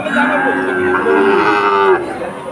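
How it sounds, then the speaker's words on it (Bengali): Cattle at a busy livestock market in Bagerhat, Bangladesh, low drawn-out mooing loud and close, one long call running through with crowd murmur underneath. "খুব সুন্দর সুন্দর গরু এই হাটে আছে"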